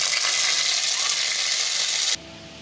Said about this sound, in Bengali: এবার একটু হালকা করে ভেজে নিব